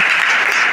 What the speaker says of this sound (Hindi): जोर के टिके ताली मारिबा